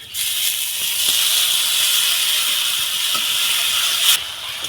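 A splash of water poured onto cumin and Kashmiri chili masala frying in oil sends up a loud, sustained steamy hiss that holds steady and then cuts off sharply near the end.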